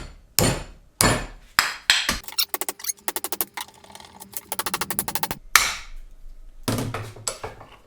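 A nylon block crushed in a hand-cranked vise gives sharp, close cracks and snaps, then bursts of rapid crackling clicks as the material gives way, with short pauses between.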